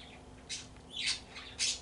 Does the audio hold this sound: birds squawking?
yes